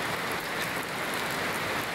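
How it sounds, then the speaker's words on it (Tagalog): Rain falling steadily, a continuous even hiss of dense drops with no pauses, fairly loud and alone without any voices. "pag nag-umaga pa tong ulan,"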